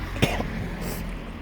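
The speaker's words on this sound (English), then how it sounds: "Just need a little cough." One short cough close to the mic during an early morning commute, heard over steady background rumble.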